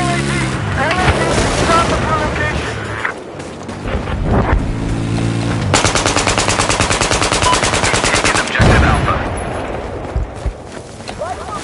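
Enemy machine gun fire in Battlefield 4 rattles in loud, rapid bursts with sustained rhythmic strings of shots amid wind, engine rumble and battlefield noise, with voices talking in between.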